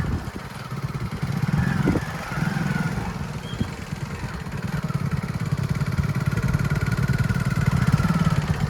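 A motorcycle engine runs steadily and fairly close, a low idling drone with a faint buzz that holds through the whole stretch with no voices over it.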